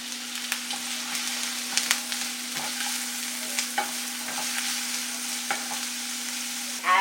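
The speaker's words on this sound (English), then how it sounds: "So I've been heating up some oil over here. So I'm going to saute some onions." Onions sautéing in hot oil in a home kitchen while cooking an Indian taco, a steady close sizzle with scattered crackles and occasional stirring scrapes, heard alone with no talking.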